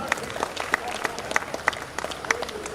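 A university golden jubilee crowd applauds, with dense, steady clapping carried throughout at moderate volume and a few sharper individual claps standing out.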